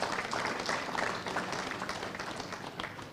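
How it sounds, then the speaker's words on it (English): Sustained applause from an audience at a junior football league best and fairest awards night, steady dense clapping throughout that eases slightly toward the end. "Another round of applause, please."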